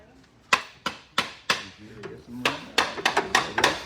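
A series of sharp, loud hammer strikes on metal during disassembly of a 1962 Ford Thunderbird, irregularly spaced, with quicker blows toward the end.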